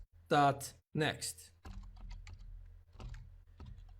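Computer keyboard typing of code, soft scattered keystrokes tapping near and quiet after a brief bit of talking at the start.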